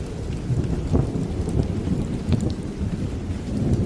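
Heavy rain pours in a dense steady roar, with low rumbling thunder swelling underneath and brief crackling peaks, continuous and close, no voices.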